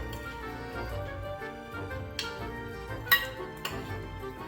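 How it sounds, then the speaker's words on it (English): Sous vide steak and balsamic glazed Brussels sprouts are plated, giving soft clinks of cutlery against dishes over a low background hum, with a couple of sharper taps. "The steak is ready. Let's plate up some of our Brussels."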